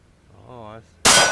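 A single sharp HK P7 pistol shot cracks loud and close at the very end, right after a brief spoken phrase.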